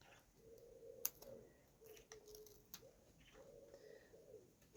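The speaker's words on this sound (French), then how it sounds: "On entend les pigeons." Soft, low pigeon coos repeat in a slow rhythm, faint and a little distant, with a sharp click or tap partway through.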